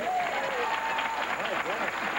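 Audience applause at a country singer's appearance: a dense, steady wash of clapping from a crowd that holds through the whole stretch, with a voice talking over it.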